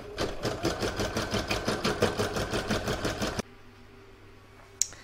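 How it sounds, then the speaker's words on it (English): An embroidery machine stitches the outline of a large seashell design, a rapid regular chatter of needle strokes for about three and a half seconds, then stops, leaving a quiet hum and one small click. "I'm just about to stitch round 1 of that second file"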